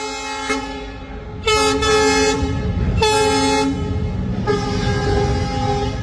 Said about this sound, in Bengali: আমরা ওভারব্রিজের উপরে এসে রিলস বানাচ্ছিলাম, আর বানাতেই দেখো ট্রেন এসে গেছে।